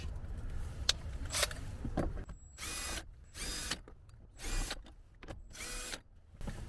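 A small power tool buzzes in repeated short bursts while removing 10mm bolts from a car dashboard, close and moderately loud, with faint handling clatter between runs.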